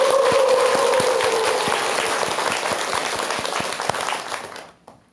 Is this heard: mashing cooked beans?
no